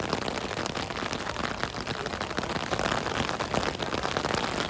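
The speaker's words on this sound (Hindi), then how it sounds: "बहुत भयंकर बारिश आ गई, देख रहे हो।" Heavy rain pours down in Ooty, a dense, steady hiss of broadband noise with scattered drop impacts, loud and constant throughout with no talking.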